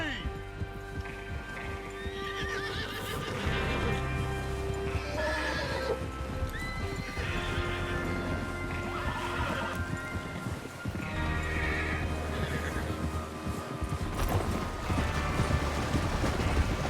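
Horses in Red Dead Redemption 2 clop steadily along with repeated neighs and whinnies, heard over a continuous low musical or ambient drone with speech-like voices mixed in throughout.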